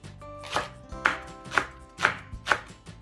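Half a stalk of green onion sliced with a knife on a cutting board: five evenly spaced, crisp chops about half a second apart, close and clear with no talk.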